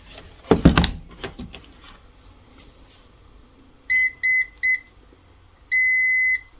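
An electrical continuity tester set to beep mode gives three short beeps and then one longer tone, preceded by a soft thump of handling nearby.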